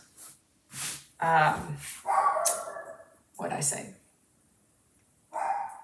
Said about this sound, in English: That barky dog.